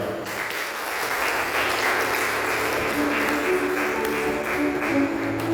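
Audience applause at a St. Thomas Cathedral temperance society annual event in Irinjalakuda, a steady dense wash of clapping running the whole stretch with background murmur.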